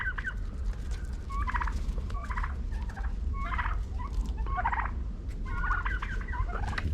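Turkeys gobble repeatedly on a snowy farm, a series of loud, bubbling bursts in quick succession over steady outdoor background noise, with no talking.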